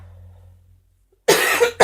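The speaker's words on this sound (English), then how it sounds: "Excuse me for the cough" A quiet stretch broken by a loud, close cough, followed a moment later by a second shorter cough.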